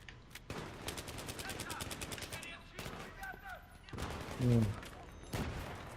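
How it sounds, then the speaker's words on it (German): Shotgun fire in the video game Battlefield 3, repeated rapid shots in dense bursts with brief pauses and a heavy blast near the end, mixed with busy game noise. "wir haben einen mit Schrotflinten von hinten"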